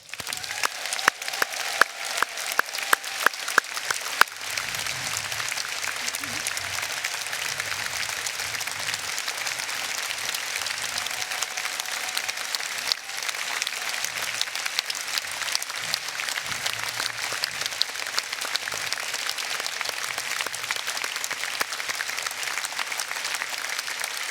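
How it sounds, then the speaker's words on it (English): A union rally audience gives a long round of applause, steady, sharp clapping that stays at an even level for over twenty seconds, with a few louder individual claps up front. "I want us to have a massive round of applause and appreciation for our migrant workers."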